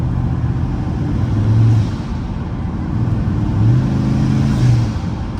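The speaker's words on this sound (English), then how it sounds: "Definitely making turbo noises. Blow-off noises for sure." A twin-turbo car engine drones steadily as it runs under boost, with a faint whistle swelling and fading, heard from inside the car.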